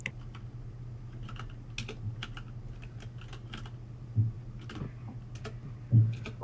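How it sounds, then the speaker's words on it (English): Steady typing on a computer keyboard, with light irregular clicks and a couple of heavier key strikes over a low constant hum, no talking. "Typing what the heck?"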